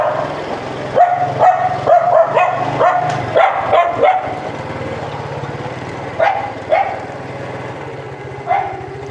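A dog barks in a rapid volley of sharp yips and barks at close range, pauses, then gives a few more scattered barks, with an engine rumbling steadily underneath on an offroad trail near Mui Ne.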